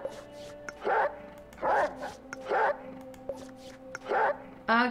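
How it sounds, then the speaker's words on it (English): Cartoonish dog barks from the video game Reigns come in about five short, evenly spaced yips over a sustained musical drone, loud and up close. "There's a dog again."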